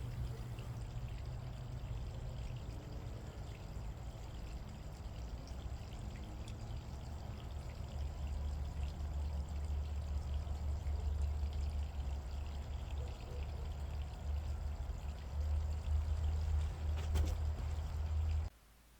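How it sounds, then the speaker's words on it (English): Molten aluminum pours from a nearly full crucible through an offset pouring basin into a prefabricated epoxy resin mold, a steady low pouring rush that swells slightly and stops abruptly at the end. "Here I'm using a offset pouring basin that's stuck onto the top of a prefabricated epoxy resin mold."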